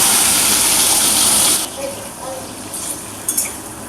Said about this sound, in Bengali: একটু সর্ষের তেল আমরা দিয়ে নেব আলুটা ভাজার জন্য।